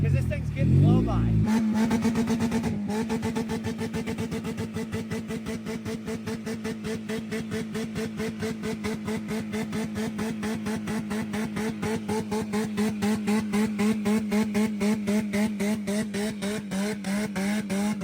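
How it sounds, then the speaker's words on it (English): Engine of a flipped car running at redline in sand, a loud continuous high rev with a rapid rhythmic pulsing throb throughout, close by, with talk over it. "You're gonna start redlining it, and it's gonna work the sand into the engine, and it's gonna fix it all up."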